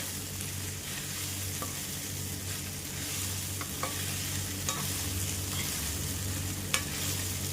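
Sabudana khichdi mixture sizzles steadily in a pan while a spoon stirs it with occasional light scraping taps, no voices.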